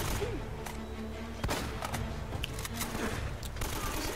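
AK rifle fire in Uncharted: Drake's Fortune comes as scattered bursts of muffled shots over steady game ambience, moderately distant and fairly quiet.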